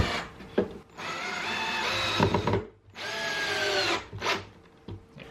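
Power drill driving a 2.5 inch screw straight down into wood for a rustic bedside table, two sustained whining bursts of the motor with a short pause between them and a brief final spurt, close and loud.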